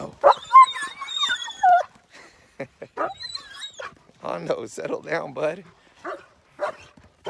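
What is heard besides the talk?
dogs barking and whimpering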